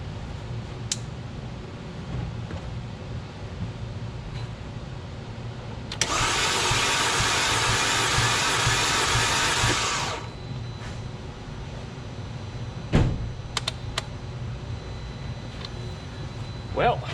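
An Audi A4 engine cranks over for about four seconds during a cylinder compression test, a steady whirring burst rising above quiet garage background, with brief clicks before and after.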